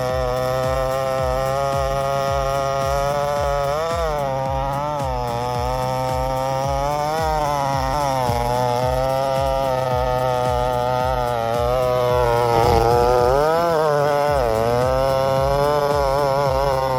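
A chainsaw cuts trees in a long, continuous run, its engine whining and bogging in rising and falling pitch as the chain bites into wood, loud and close throughout with no talking.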